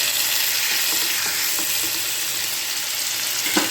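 Chicken pieces fry in butter in a pan, giving a steady broadband sizzle with a few faint clicks and a small pop near the end, close and continuous with no talking.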